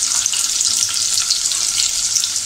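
Green chillies and mustard seeds sizzle steadily in hot oil for a Malvani-style raw jackfruit bhaji, a close, continuous crackling fry with no voices.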